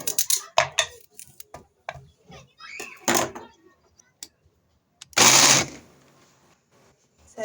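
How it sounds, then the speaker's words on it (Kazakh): Carrots whir briefly in a kitchen blender, one loud burst of chopping lasting about a second and then trailing off, with scattered clicks and handling noises around it. "Сәбізімді мынандай блендерден уатып алдым."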